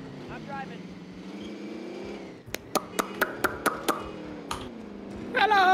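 Car engine in the video game Warzone: a steady droning hum whose pitch sweeps up and down as it drives, broken by a run of regular sharp clicks before the revving picks up again.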